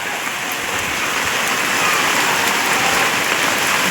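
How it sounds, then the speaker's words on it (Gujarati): Heavy rain pours down steadily as a loud, even wash of broadband hiss. It holds constant from start to finish, with no voices over it. "જો ગાઈસ જોરદાર વરસાદ પડે હ"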